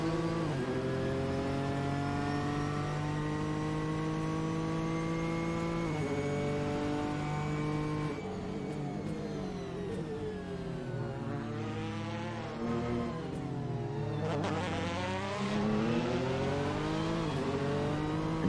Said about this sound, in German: Hört den Porsche wirklich noch beim Rausbeschleunigen. Also das Auto ist wirklich verdammt laut.